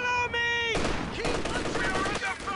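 An MG34 machine gun fires in Company of Heroes 2, loud rapid broadband bursts that break in after a sustained tonal hum, with sharp cracks running to the end.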